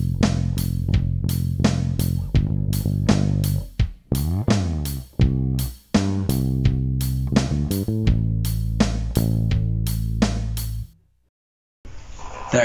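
Electric bass playing a line from a song, a sequence of clear plucked notes with distinct attacks and short gaps, loud and close, ending briefly in silence before a final note.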